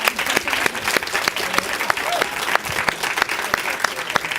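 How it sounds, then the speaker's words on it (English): Audience applause at a Tribeca festival event, a steady mix of many claps with sharp individual hand claps standing out, moderately loud throughout. "let's get a round of applause."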